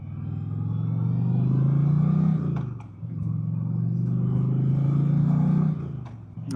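An Indian Chieftain PowerPlus 112 motorcycle rolls along at low speed, its deep engine rumble swelling twice in steady throttle pulls with a short dip between, heard close and alone.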